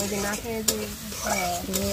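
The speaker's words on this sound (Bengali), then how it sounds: "আর এখানে মাংসটা ভাজছে" Meat crackles and sizzles in a pan with steady frying hiss, punctuated by stirring clinks and scrapes, and a faint low hum underneath.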